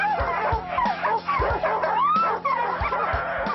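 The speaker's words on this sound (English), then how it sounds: "The first task is to harness the 12 dogs up to their sled." A team of twelve huskies yipping, whining and barking excitedly while being harnessed to a sled in the Arctic, close and continuous with overlapping voices.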